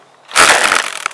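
Ryobi 18V weed whacker, its trimmer line slapping as the motor starts and stops: a sudden loud crunchy whirring burst close by, then a fading rattle and a single sharp hit.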